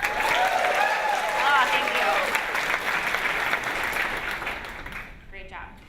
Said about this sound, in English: I would like everyone to clap and cheer for me like I'm doing something awesome